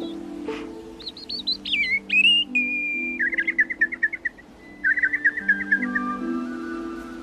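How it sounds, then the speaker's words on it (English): A robin sings in a garden, giving a sequence of clear whistled notes followed by rapid trilling phrases over a steady low background hum. "The robin says he's been waiting for you."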